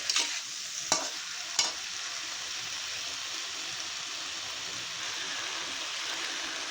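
Pabda fish fried with cumin and green chilli paste gives a steady, close sizzle, broken early by a few sharp scrapes of stirring before settling into an even hiss.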